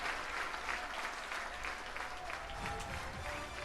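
Stadium crowd applause from the Madden 26 football video game, a steady, dense roar of clapping and cheering that holds level throughout with no voices standing out.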